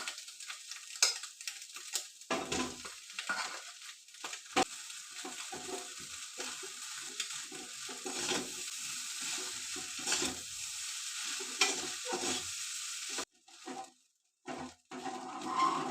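Egg rice sizzles in a pan while a utensil stirs it, scraping and tossing in irregular bursts over a constant frying hiss.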